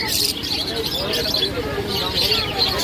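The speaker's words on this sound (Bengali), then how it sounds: "দুটো ককটেল, অ্যালবিনো ককটেল আছে, খুব সুন্দর পেয়ার।" A pair of red-eyed albino cockatiels calls among many chirping birds at the Srirampur bird market. Dense, bright chirps and tweets run continuously over a noisy crowd, with people talking in the background.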